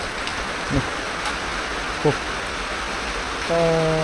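Steady rain hiss on a house roof fills the clip, with a couple of brief knocks and a droning tone rising near the end.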